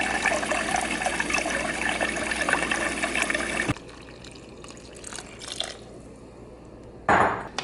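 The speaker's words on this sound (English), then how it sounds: "I think I need a bit more water." Water is poured into a one-pot mix of quinoa and vegetables: a steady splashing pour for several seconds, then quieter trickles and a short final splash.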